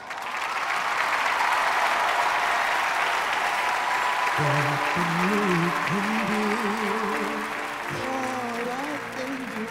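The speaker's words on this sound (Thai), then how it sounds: "ตอนนี้พวกเขาพร้อมอยู่บนเวทีแล้วนะครับปรบมือดังๆเลยครับ" An audience at a youth band audition applauds a group taking the stage, a steady, full wash of clapping throughout, with a person speaking over it in the second half.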